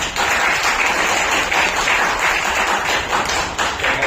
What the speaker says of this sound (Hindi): इनके लिए एक जोरदार तालियां।